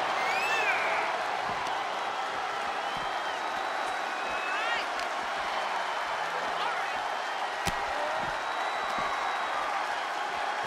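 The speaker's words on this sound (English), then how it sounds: "Randy Orton feeding off this electric crowd" Wrestling arena crowd at a WWE Elimination Chamber match, a loud, sustained roar of cheering with scattered whoops and applause filling the whole stretch behind the action.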